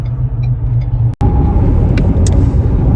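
A Ford Ranger Tremor rolls along the road, with steady loud engine rumble and road noise inside the cab, briefly cut by a short dropout, then continuing evenly.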